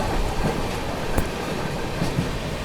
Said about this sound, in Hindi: अपनी चेन्नई एक्सप्रेस पहुंच रही है कल्याण जंक्शन पे